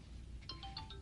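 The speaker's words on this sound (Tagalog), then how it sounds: "Kanina pa tumutunog ang cellphone ko." A cellphone ringtone playing faintly, a short series of high electronic beeping notes in a quick repeating pattern over low background noise.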